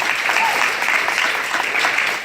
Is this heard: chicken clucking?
no